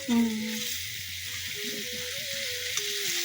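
Shrimp seasoned with turmeric and salt fry lightly in a pan, giving a steady broadband sizzle that runs throughout, with a voice talking over it and a short bump near the start.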